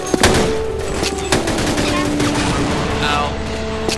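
Sniper and other gunfire in a Sven Co-op Half-Life campaign match, several sharp shots cracking over a dense, loud game soundscape while players talk.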